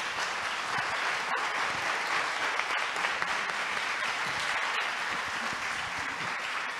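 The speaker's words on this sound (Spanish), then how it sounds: "se merece ese aplauso" Sustained, loud audience applause fills a hall at an international culture symposium, steady from start to finish with dense, even clapping.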